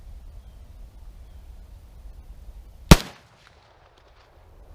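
A single loud gunshot from a CETME C308 G3-clone rifle at an outdoor range cracks sharply and decays quickly over faint low background rumble, followed by near silence.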